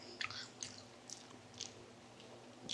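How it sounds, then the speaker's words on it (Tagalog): Close, soft chewing of a spinach mushroom baked roll densely packed with cheese, with faint squishy bites recurring every half second or so and no talking. "Hirap akong nguyain siya kasi ganun kasiksik yung cheese sa loob."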